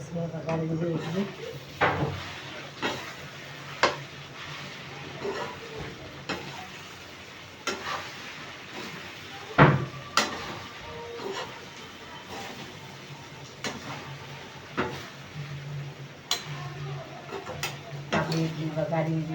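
A tempering of spices sizzles in a pan on a home stove, with a continuous low frying hiss broken by scattered clacks and scrapes of a spoon and utensils, and a voice speaking over it.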